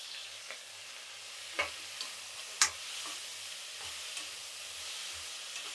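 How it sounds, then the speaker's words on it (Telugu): Tomatoes and tamarind go into a hot pan while okra chutney cooks, giving a quiet steady sizzle with a few sharp stirring clicks and scrapes and no voices. "ఇప్పుడు టమాటా చింతపండు వేస్తున్నాను"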